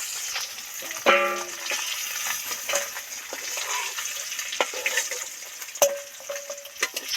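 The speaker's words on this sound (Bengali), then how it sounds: "মাছগুলো তো সব ডিপ ফ্রাই করে উল্টে পাল্টে ভেজে নিলাম" Koi fish deep frying in hot oil, a continuous bubbling sizzle with scattered crackles and a couple of sharp utensil clinks, close and moderately loud, no talking.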